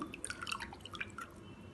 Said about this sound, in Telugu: మీకు పులుపు ఎంతైతే కావాలో అంత నిమ్మకాయ పిండేసుకోండి